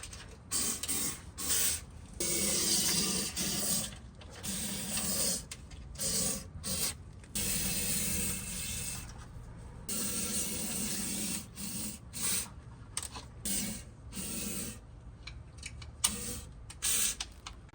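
Fluid Film undercoating is sprayed into the frame plug holes of a 2021 fifth-generation Toyota 4Runner, heard as repeated close hissing bursts separated by short pauses, with no talking.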